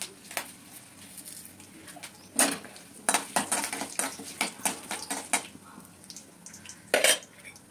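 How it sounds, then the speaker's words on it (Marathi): Peanuts sautéing in a pan with mustard seeds and curry leaves for upma, heard as close, irregular clinks and scrapes of a spoon against the pan over a faint sizzle, with louder knocks clustered in the middle. "शेंगदाणे, 2 मिनिटं फक्त थोडेसे परतून घ्यायचे."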